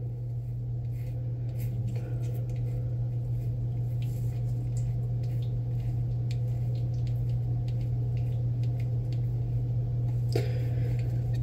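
A razor drags over a face during shaving, giving soft repeated scraping strokes up close, with a steady low hum running underneath the whole time.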